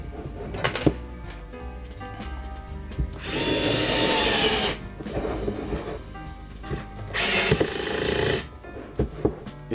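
An IKEA FIXA li-ion screwdriver/drill driving into a piece of hard wood, with two long bursts of bright whirring and grinding separated by quieter clicks and knocks, close and alone.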